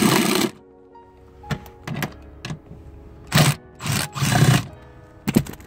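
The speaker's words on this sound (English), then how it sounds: "My socket's over there. Let's go ahead and remove these back ones." A socket wrench works on the rear seat bolts of a 2015 Toyota Camry Hybrid driver's seat, producing short bursts of ratcheting and mechanical rasping separated by pauses, close and fairly loud.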